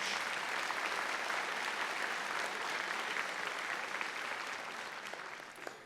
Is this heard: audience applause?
yes